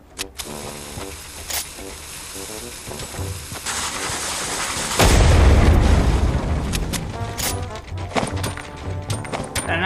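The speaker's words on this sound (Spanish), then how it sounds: "Granadazo, chaval." Grenade going off in the Fortnite video game: a heavy, booming blast bursts in midway through, after busy clicks and game effects, then rumbles on under continuing crackle and clatter.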